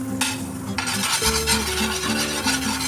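Butter brushed and scraped around a hot pan while paneer thecha is cooked, a steady close rubbing and stirring scrape with a faint sizzle and no talk.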